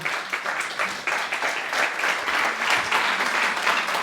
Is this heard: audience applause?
yes